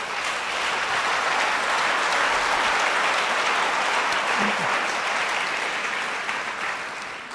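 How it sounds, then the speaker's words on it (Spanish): A church congregation applauding, a dense, steady wash of many hands clapping that holds loud for several seconds and fades slightly at the end, with no talking. "Dele un aplauso al Señor."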